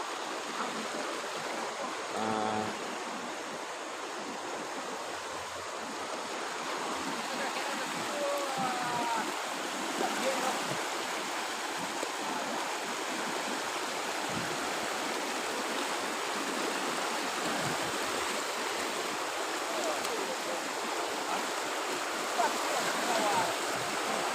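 A flooded river torrent after a debris flow near a horse-racing track in Bukik Gombak roars steadily and loudly, close by, as a broad continuous rush of water, with someone talking over it now and then.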